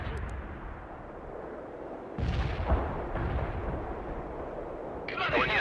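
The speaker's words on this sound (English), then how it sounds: "Incoming fire!" Incoming artillery fire in the World in Conflict Soviet Assault game, with heavy booming blasts and rumbling explosions rolling in from about two seconds, a sharper crackling burst near the end, over a constant battlefield din.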